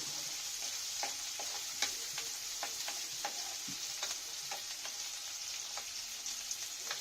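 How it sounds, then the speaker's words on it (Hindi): Onions fry in a pan for a chilli potato dish, a constant close sizzle broken by frequent small crackles and stirring ticks, with no voices. "प्याज को थोड़ा सा भून लेंगे।"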